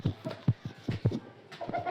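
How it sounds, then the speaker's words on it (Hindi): Aseel rooster and hens clucking close by in a winter farmyard setup, a quick irregular run of short clucks, loud and alone with no talk. "ये मेरा एक मुर्गा है असील"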